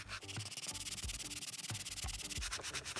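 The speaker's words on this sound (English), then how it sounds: "sanding in a crosshatch pattern will scuff the surface better" Steady, rhythmic sandpaper strokes scrape back and forth in a crosshatch pattern across car door panel trim, close and continuous.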